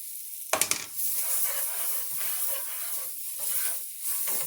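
Finely chopped onion dropped into a hot pan and kept stirred, a sudden burst of loud sizzling that settles into a steady hiss with soft stirring, close by and alone.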